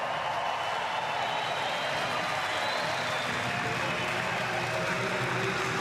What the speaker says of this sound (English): he's playing to the crowd, and the crowd are responding